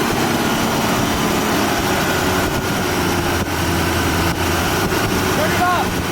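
1970 Corvette LT-1 V8 running at its first start-up in over 20 years, with a poorly adjusted, sticking carburetor and black smoke; a loud, steady, rough rumble holds throughout.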